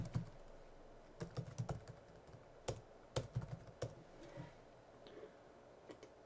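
Keys clatter on a computer keyboard while a username and password are typed to log in, quick clustered taps with short pauses, fairly close and alone with no talk.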